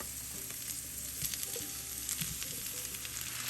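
Marinated paneer and vegetables frying in a pan, a soft steady sizzle with faint stirring scrapes, quiet and continuous.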